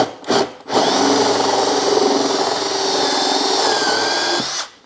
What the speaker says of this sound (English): And you drill out that hole.